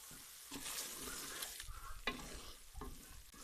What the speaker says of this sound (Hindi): और मीडियम आंच पे आपने भूनना है ताकि प्याज का जो कच्चापन है वो सही तरीके से ख़त्म हो जाए